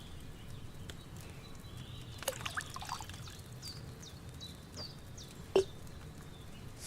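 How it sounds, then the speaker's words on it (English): Wine poured into a cauldron in the medieval game Kingdom Come: Deliverance II, a faint trickling pour set against soft outdoor ambience with birds chirping, a brief louder splash near the end. "what did you pour in there? Wine, of course."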